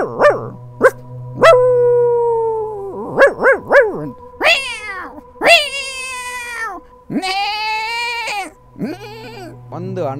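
A mimicry artist imitates a pack of many dogs with his voice, producing a rapid run of barks, yelps, whines and drawn-out howling tones, loud and close, with no real animals present.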